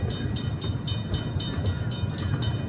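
Irvine Park Railroad train running along its track, a steady rumble with regular rhythmic clacks of the wheels, heard close and continuous from on board.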